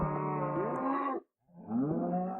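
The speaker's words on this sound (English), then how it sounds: "Those cows are so loud." Cows in the Minecraft video game moo loudly twice in a row, each long, drawn-out low bellow lasting about a second, close and clear with a brief gap between them and no talk.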